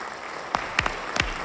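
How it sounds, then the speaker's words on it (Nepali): Audience applause at a dance competition's grand premiere, a steady soft wash of many hands clapping, with a few louder individual claps standing out near the middle. "जोरदार ताली"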